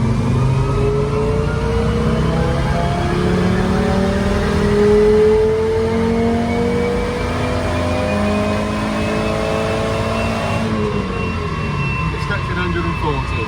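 A £500 Volvo race car's engine revs hard in fourth gear on a dyno, a loud, steady climbing roar with rising harmonic whine toward the red line, then easing off near the end; voices are heard talking over it.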